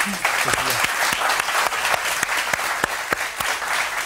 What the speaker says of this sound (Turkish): O yüzden onlara kocaman bir alkış